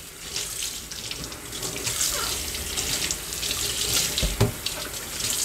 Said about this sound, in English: Then I can take the smooth side and just gently wash my dish.